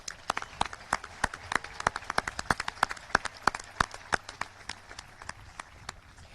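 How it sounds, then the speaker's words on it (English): Sparse, fairly steady clapping at a high school graduation ceremony honouring the graduating students: a modest, moderately distant round of individual claps in an even rhythm that thins out toward the end. "Let's give them all another round of applause"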